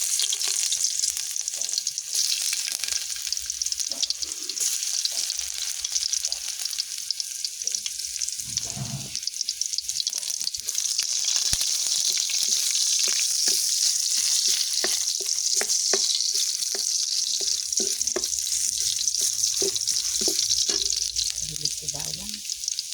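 Garlic fries in hot oil in a pan, a continuous bright sizzle with occasional stirring clatter, steady and close throughout, with a brief voice now and then.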